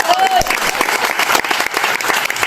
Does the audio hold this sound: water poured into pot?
no